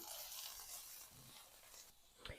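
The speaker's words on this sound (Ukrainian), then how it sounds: "Тепер додаю томатну пасту. Перемішую" Tomato paste being stirred into fish and vegetables in a frying pan, soft sizzling with faint scraping and a sharp knock near the end, close and quiet, no talking.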